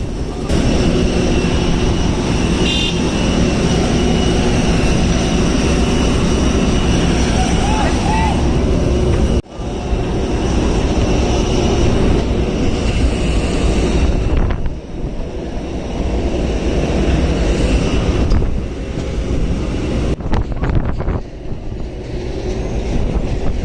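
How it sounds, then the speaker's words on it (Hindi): Jet engines of a Flynas airliner roar loudly and continuously near the boarding area in Saudi Arabia, with gusting wind noise and a person talking over the steady drone. "ये हमारा जहाज है फ्लाइनास।"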